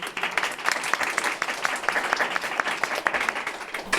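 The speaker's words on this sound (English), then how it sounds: "So I'd like to have a round of applause for our panel." An audience of seniors at an evening event applauds a panel, a steady, moderately distant wash of clapping that continues evenly throughout.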